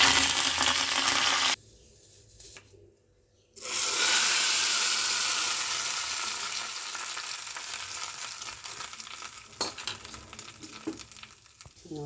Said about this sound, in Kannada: ಸಾಸಿವೆ ಸಿಡಿಲಿ